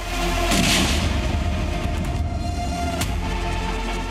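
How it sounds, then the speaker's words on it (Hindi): Loud explosion destroying a house: a sustained heavy roaring blast with rumbling low end and debris noise, then a sharp secondary crack near the end. "जहां एक जोरदार धमाका हुआ और पूरा घर तहस नहस हो गया"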